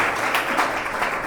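A church congregation clapping at a Sunday evening prayer service, a dense, steady burst of many hands applauding together in a reverberant hall, brief and moderately loud.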